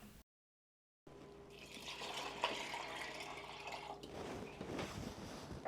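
Water poured into a pot of soaked mixed daal, about five times the lentils' volume, a steady close splashing fill after a brief silent gap at the start.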